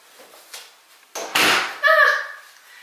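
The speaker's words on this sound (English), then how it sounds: "Yeah, I'm gonna have to shut the door." A barn bathroom door is pushed shut, with a few soft knocks and shuffles leading into a solid thud and a short creaking, ringing scrape as it closes nearby.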